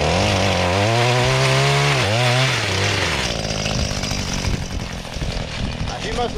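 Pole saw, an extension chainsaw, cutting tree branches outdoors in farm fieldwork: a loud, steady motor whine that rises and falls in pitch as it bites into the wood, then settles into a rougher, grinding cut.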